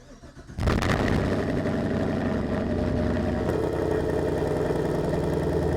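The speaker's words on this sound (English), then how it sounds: "let's go ahead and fire it up." A Gen 6 Chevrolet Camaro with a dual-mode NPP exhaust in tour mode fires up after a short quiet moment, catching abruptly with a loud rumble that settles into a steady, deep idle nearby.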